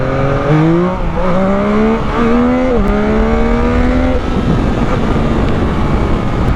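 A 2021 Yamaha MT09 motorcycle engine revs loudly and close, its pitch sweeping upward in several climbing pulls with brief dips between, then easing into a steady, gritty roar.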